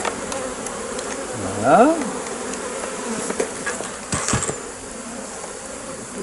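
Honeybees buzz continuously in an open hive during a colony split, a dense steady hum under a man's nearby speech, with a few sharper tonal sweeps and clicks from handling the hive parts.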